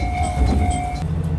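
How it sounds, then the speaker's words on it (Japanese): A local diesel train rolls into Koshiishi station on a rural Hokkaido line, a close, steady rumble with a sustained whining tone and faint clatter as it slows. "列車は越石駅に到着。"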